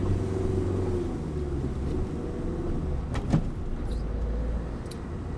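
A car pulling away from a green light on a driving lesson, a low engine rumble building gently with a couple of faint clicks and knocks from inside the cabin.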